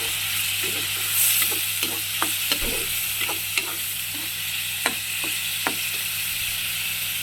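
Onion paste frying in a pan for a spiny gourd curry, with a steady hissing sizzle and a few sharp spoon clicks and scrapes at intervals, close and moderately loud.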